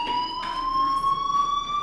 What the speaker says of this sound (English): do you hear that fire alarm? That means you should be outside.